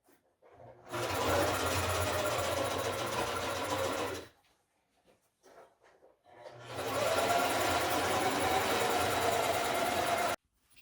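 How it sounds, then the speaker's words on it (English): A sewing machine stitches a fabric seam on window-covering material, running in two steady bursts of about four seconds each, separated by a quiet pause with faint handling noises. "I ironed the seam after I sewed it."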